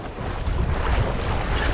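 Strong ocean waves wash around a floating bridge at Muzhappilangad drive-in beach in Kerala, a loud continuous rushing surf mixed with heavy wind buffeting the microphone.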